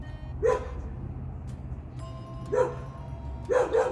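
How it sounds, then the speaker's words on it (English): A neighbour's dog barks next door, a single bark, then another, then a quick double bark, heard at a distance over a steady low background hum. "this dog's been barking its head off all day next door"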